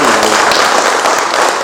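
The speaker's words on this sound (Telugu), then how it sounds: "ఒకసారి వారికి చప్పట్లు కొట్టండి." Dense, loud applause from an audience at a newspaper printing press launch, a continuous wash of many hands clapping together.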